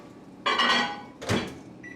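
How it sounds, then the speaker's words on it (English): A kitchen microwave oven, being used to heat sauce, gives two quick clunks of its door and buttons, followed by a short faint beep. "So I'm going to put this in the microwave for 1 minute."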